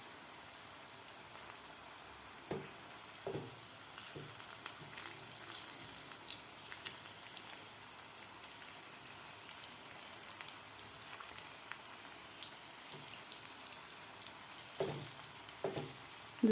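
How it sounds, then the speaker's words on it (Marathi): Spinach palak vadi pieces shallow-frying in oil in a pan, a faint, steady, fine sizzle with scattered spitting pops and a few soft knocks. "पालक वड्या आपल्याला खालची बाजू व्यवस्थित फ्राय करून घ्यायची आहेत."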